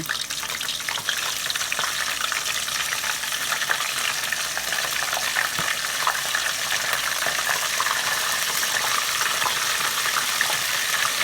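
Oyster mushrooms frying in hot oil in a pan, a steady loud sizzle with crackling pops spattering throughout, no voices over the bubbling.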